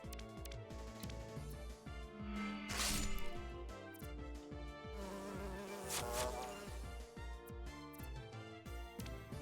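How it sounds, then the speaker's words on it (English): A bee buzzes inside a house in the video game Coromon, a continuous insect drone heard alongside rhythmic game music and occasional sharp crackling hits. "Maybe we chase the bee outside."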